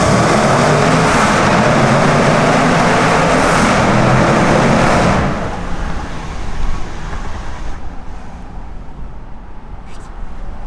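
A Range Rover SVR accelerates hard, its engine roaring loud and dense for several seconds before the noise drops away to a lower steady cruising rumble with road noise.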